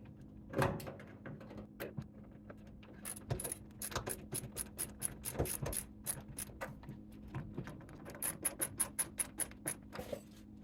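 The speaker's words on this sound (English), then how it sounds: "we're just going to screw those two rear wash strap screws in." Rear wash strap screws being driven into an LG stacked washer, giving steady ratcheting clicks and small mechanical ticks that repeat quickly and unevenly, quiet and close with a low background hum.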